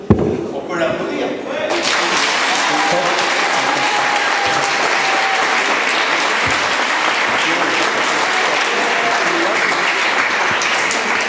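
Audience clapping at a judo dojo event, a loud sustained burst of applause that starts abruptly and keeps going evenly throughout.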